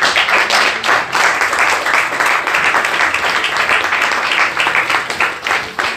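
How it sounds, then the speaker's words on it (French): An audience at a prophecy sermon claps loudly and steadily, a thick uninterrupted wash of many hands close by that continues for the whole stretch. "Le fait que le message est bon, vous avez applaudi."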